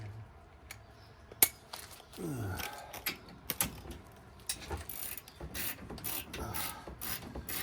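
A wrench snugs down the bolts on aftermarket KSP lift control arms on a truck, with bursts of ratcheting clicks and metallic clinks, close and moderately quiet.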